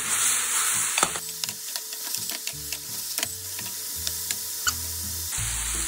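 Daikon kinpira stir-fries in a pan over high heat with sugar mixed in, giving a steady loud sizzle broken by frequent clicks and scrapes of stirring utensils, close up and without talk.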